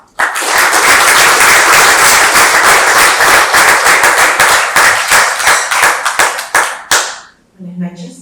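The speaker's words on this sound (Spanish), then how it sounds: "recibimos con fuerte voto de palmas" Loud, dense applause from an audience at a book presentation for the title Activa tu Aula, continuous for about seven seconds before thinning into scattered claps, followed by a short voice.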